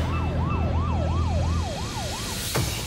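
A stolen police car's siren wails in a steady rising-and-falling pattern over loud road noise during an escape, with a sharp swoop near the end.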